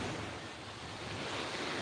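Sea waves roll onto the beach at Khanom in Nakhon Si Thammarat, Thailand, a steady, close wash of surf with wind buffeting the microphone and no voices.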